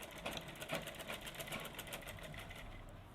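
A sewing machine runs a thin line of stitching along a blouse lining, a steady rapid mechanical whir with a faint rhythmic needle clatter, close and uninterrupted throughout.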